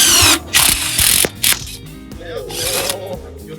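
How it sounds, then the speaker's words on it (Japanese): A freshly sharpened general-purpose steel drill bit in an impact driver bores into stainless steel at a crowded tool trade show. The loud, rattling, ratchet-like whirring comes in several short close bursts, then a longer softer grind. "これ鉄鋼ドリルですけども、ステンが開くかどうか"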